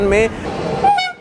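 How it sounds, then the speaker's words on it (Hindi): A horn toot sounds from the Yesvantpur–Jabalpur Superfast Express train 12193 at Yesvantpur Junction station, short and loud at the start and again near the end, with someone talking over the platform noise. "अभी मेरे पीछे जो आप ट्रेन देख रहे हैं ये है गाड़ी क्रमांक 12193 Yesvantpur junction Jabalpur superfast express"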